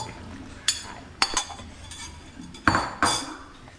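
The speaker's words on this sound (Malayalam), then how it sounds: "പാസ്ത നന്നായിട്ട് ഇളക്കി കൊടുക്കാം." Pasta stirred in a pan with a utensil, producing several sharp metallic clinks and scrapes spaced irregularly, close by and fairly loud.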